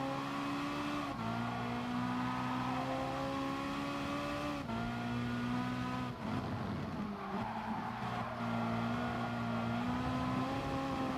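Race car engine in a racing video game at Autodrome Lago Maggiore, droning loud and steady throughout with shifting engine pitch, brief dips under braking and faint tire squeal, no voices.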